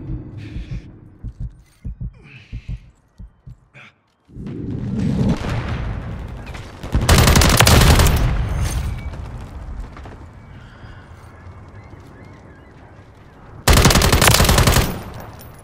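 Machine gun fire in Call of Duty Modern Warfare 3 rattles loud and close in two long sustained bursts, between quieter clicks, rumbles and background battle noise.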